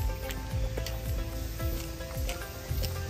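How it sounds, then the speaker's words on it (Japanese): Cicadas sing in late summer outside Shonan Lemongas Stadium's parking lot, a steady high, hissing buzz, with faint outdoor rumble and scattered noises beneath. "夏の終わりを感じながらセミの声を聞いております"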